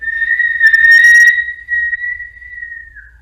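A sustained whistling breath is drawn in through rounded lips during a Kundalini kriya, a clear steady tone that holds for about three seconds with a slight wavering, soft air hiss at the start, close and alone.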